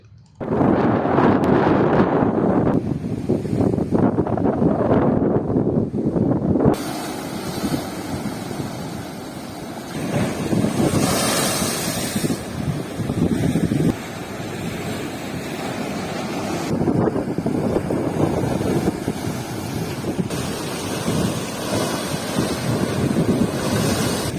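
Rough, churning sea surf pounds the shore at Tharangambadi amid strong gusting wind, a loud continuous roar with heavy wind buffeting on the microphone and surging swells throughout.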